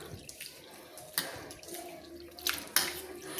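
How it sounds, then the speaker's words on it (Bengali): Mung dal being washed by hand in water for vegetable khichuri: quiet, close splashing and swishing with a few louder sloshes as the lentils are rubbed and stirred, no voices. "আমি 3 থেকে 4 বার জল দিয়ে ধুয়ে আমি চটকে ধুয়ে আমি পরিষ্কার করে নেব।"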